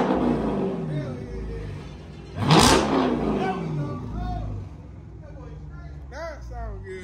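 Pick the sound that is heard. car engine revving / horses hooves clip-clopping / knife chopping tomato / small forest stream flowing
car engine revving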